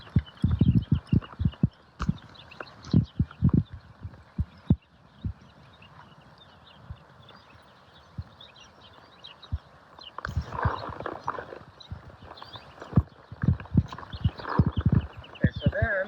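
A ridden horse trots in a training session, its hoofbeats thudding in an even, rhythmic pattern near the listener, softening for a few seconds midway before picking up again with steady beats.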